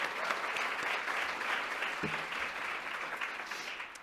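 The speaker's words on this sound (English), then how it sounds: "Let's give a round of applause for that" Steady applause from an audience filling Mechanics Hall in Worcester at an early childhood summit, a dense, even wash of many hands clapping that holds for the full four seconds with no one speaking.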